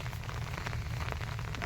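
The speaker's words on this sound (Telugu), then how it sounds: "ఇక రైన్ పడుతుంది చూడు" Steady rain falls on a village where goats are kept, producing a continuous dense patter of drops on surfaces at moderate distance with occasional sharper splashes, with no voices.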